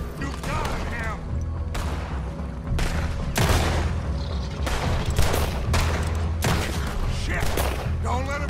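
Gunfire aimed at a giant alligator in Red Dead Redemption 2, repeated loud close shots spaced irregularly over a constant low rumble, with voices speaking between blasts.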